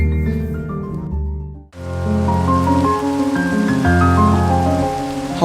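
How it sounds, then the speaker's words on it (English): Steady rain pours in Minecraft, a continuous wash of falling water laid over layered in-game music tones, with a brief dip into near silence before the rain resumes and holds throughout. "Make it always rain, yes please."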